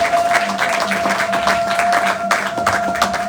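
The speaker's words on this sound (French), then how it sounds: "Est-ce qu'on peut acclamer pour ces 3 personnes?" A church congregation applauding at a Sunday morning service, producing steady, dense clapping from a crowd that fills the room, with a faint voice in the background.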